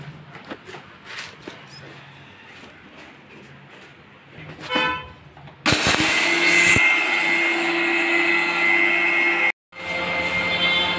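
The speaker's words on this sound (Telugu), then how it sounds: "పప్పులు అయితే మిక్సీకి వేసుకోవాలండి మెత్తగా" Quiet background noises give way to a mixer grinder grinding lentils that starts with a loud, harsh whirring whine. It cuts out briefly near the end, then resumes.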